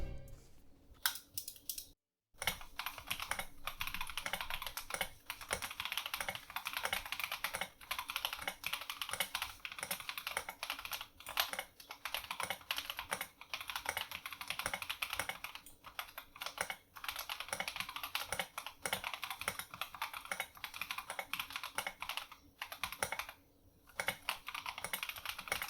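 A Keydous NJ80 mechanical keyboard fitted with Boba U4T tactile switches is typed on steadily, giving a dense run of close, muted clacks with a few brief pauses and no talking.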